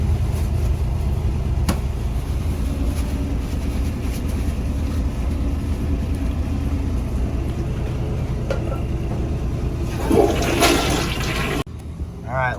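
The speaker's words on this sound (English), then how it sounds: "Now we got more of a flush." A toilet flushes thin toilet paper with a long, loud, steady rush of water that swells into a gurgling swirl near the end before dropping off abruptly.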